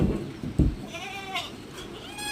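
Native goats penned in a shed bleat during deworming, several wavering, close calls in quick succession over a faint background.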